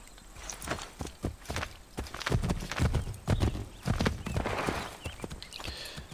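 Horse hooves clip-clopping in Assassin's Creed 3, a steady run of close, loud hoofbeats with a brief whinny mixed in, heard alone without talk.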